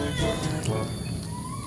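A pregnant stray outdoor cat meows close by in a drawn-out, wavering call, heard over background noise and a talking voice.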